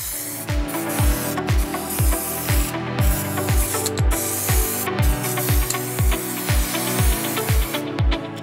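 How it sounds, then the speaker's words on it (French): Velvet spray applied to a hazelnut lemon yuzu yule log cake, a steady close hiss from the spray gun with a regular pulsing rhythm throughout. "je vais appliquer un spray velours"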